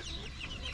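Chickens and chicks cluck and peep softly in a brief, close burst of backyard fowl chatter.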